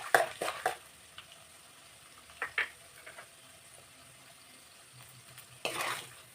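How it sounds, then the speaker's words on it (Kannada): Chana dal and mustard seeds frying in a pan for raw mango chitranna, a quiet sizzle under scattered stirring scrapes and a few louder bursts of clatter; no talking. "ಇವಾಗ ಕಡಲೆಬೇಳೆ ಕೂಡ ಆ್ಯಡ್ ಮಾಡ್ಕೊತಾ ಇದ್ದೀನಿ. ಈಗ ಸ್ವಲ್ಪ ಹುರ್ಕೊಳ್ಳೋಣ"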